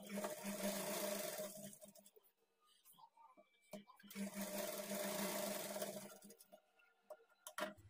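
A sewing machine runs a double stitch over a blouse shoulder joint in two separate bursts with a quiet gap of small handling noises between; the hum is close and moderately loud.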